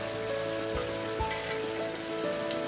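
Sabudana vada fry in hot oil over a medium flame, filling the clip with a continuous close crackle and sizzle broken by small pops.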